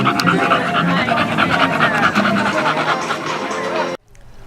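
Dogs pant steadily and close at an annual dog festival at a family center. The rapid rhythmic breaths run continuously for about four seconds and then cut off abruptly.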